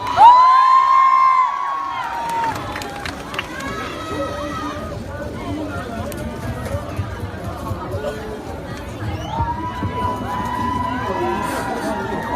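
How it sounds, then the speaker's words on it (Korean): A military base crowd cheers and shouts for soldiers after their energetic stage performance, with loud whoops and excited chatter blending into a lively hubbub, and voices rising again toward the end. "열정적인 무대를 보여주는 병사들에게 다시 한번 더 큰 박수 부탁드리겠습니다"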